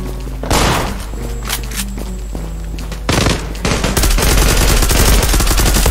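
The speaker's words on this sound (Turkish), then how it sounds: "Bak, vuruyorum sanırım." Rapid automatic gunfire from the online shooter game Zula rattles loud and close, with bursts packed tightly together and barely a break over several seconds.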